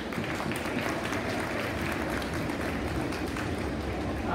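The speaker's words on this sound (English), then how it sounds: "they all just stomp and clap" At a student string music festival, an audience stomps and claps together, making a steady, loud, continuous roar of clapping and foot thumps that holds evenly throughout.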